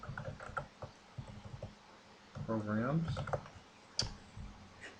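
Keys tapped on a computer keyboard during lighting-software setup, a run of light close taps at the start and a sharp click later, with a voice speaking briefly in between.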